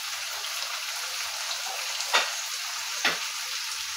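About 1.5 kg of chicken fries in hot ghee with a constant, dense sizzle. Two brief scraping stirs stand out above the hiss. No one speaks.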